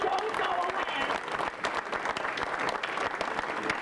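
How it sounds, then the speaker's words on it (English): At a 1980s magicians' convention, the crowd gives a round of clapping for a volunteer called up to help with a magic effect. The applause is close, lively and continuous, with a voice talking over it. "Let's give him a nice round of applause."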